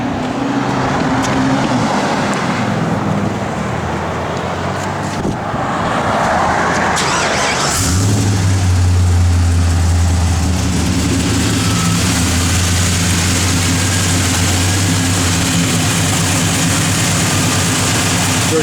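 1967 Chevrolet Chevelle with a Tremec 5-speed, its engine rumbling and revving loudly up close, then settling into a deep, steady low idle drone for the remaining seconds.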